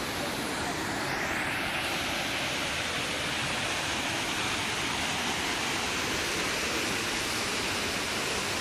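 Running water from a tap or hose pours steadily for face washing, a continuous broadband rush that fills the whole stretch at close range with no pauses.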